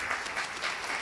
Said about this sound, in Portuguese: uma salva de palmas para o Maurício